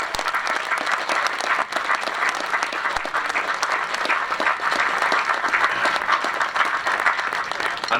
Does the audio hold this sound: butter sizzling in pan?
no